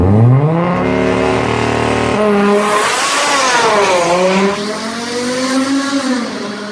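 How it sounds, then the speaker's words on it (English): Race car revving under launch control in a racing video game: a high engine note climbs, stutters at the limiter, then surges and sweeps through gears with faint tire squeal, loud and close throughout. "I'd rather have my launch control sounding like this"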